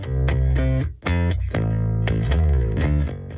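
An aggressive, heavily distorted bass guitar plays a choppy riff of short punchy notes with a gritty, buzzing tone, loud and close with no talking.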